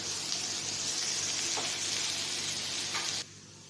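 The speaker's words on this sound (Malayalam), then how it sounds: "അപ്പം ഞാൻ ഉള്ളി മാത്രമേ ഇവിടെ മൂപ്പിച്ചിടുന്നുള്ളൂ" Onions frying in oil for prawn biryani make a dense, steady sizzle close up. It holds level for about three seconds, then drops off abruptly to a quieter hiss. No one talks.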